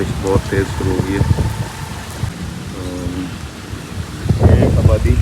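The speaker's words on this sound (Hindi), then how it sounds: "बारिश बहुत तेज़ शुरू हो गई है" Heavy rain pours around a building at an abandoned railway station, a dense, loud wash of noise with voices and other sounds mixed in over it.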